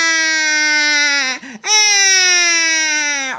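A person's voice imitates an infant's cry during a belting vocal exercise: two loud, bright, sustained wails with a brief catch and break between them, and no other talk.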